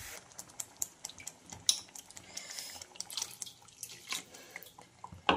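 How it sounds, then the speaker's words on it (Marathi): Water poured into a pan of home-cooked egg curry, rinsed in from the mixer jar that held the ground masala; a close, splashy trickle with scattered clinks and ticks running for several seconds, no talking. "तर गरजेनुसार आपण यामध्ये पाणी घालून घेऊया।"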